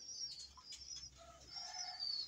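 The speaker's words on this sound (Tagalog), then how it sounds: "Nagahan pa ng tubig yung mga ibon natin guys." Pigeons in a breeder cage give soft, faint cooing with thin chirps over a quiet background hiss, steady and low-level with no voices.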